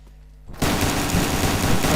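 Gunfire erupts in a Minecraft GTA-War server (version 1.7.2) shootout, quiet at first, then a sudden dense burst of rapid shots that stays loud and continuous to the end.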